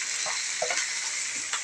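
Onion, curry leaves and green chilies frying in hot oil in a pan for a tomato and okra curry, giving a steady bright sizzle with a few faint scrapes and pops.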